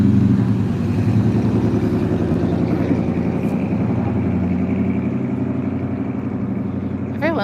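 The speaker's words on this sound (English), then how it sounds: "Everyone likes their loud mufflers around here, or no mufflers around here." Loud vehicles with loud or missing mufflers rumble along Main Street in Denton, Maryland, a steady heavy engine drone lasting throughout with revving pulses, close and prominent.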